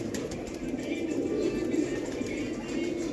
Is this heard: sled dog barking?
no